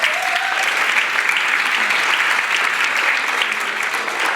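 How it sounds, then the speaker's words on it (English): A loud, steady burst of clapping from a large crowd at a Republican candidates night in Camarillo fills the room without a break. "Let's give him a round of applause."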